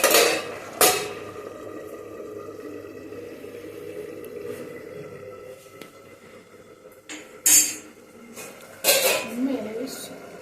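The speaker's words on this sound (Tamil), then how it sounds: "மூடி வச்சிடலாம்." A metal lid clanks onto a cooking pot of potato kara kuzhambu with a few sharp clatters against a low simmering background, and a voice talks nearby.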